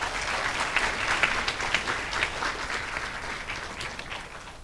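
Warm applause at a Cyber Hankuk University of Foreign Studies entrance ceremony for new students, many hands clapping in a steady, dense patter that slowly tapers off.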